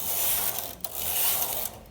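A Brother knitting machine knitting, a continuous mechanical whirring and ratcheting as the carriage runs across the needles, steady and close, with a brief hitch partway through.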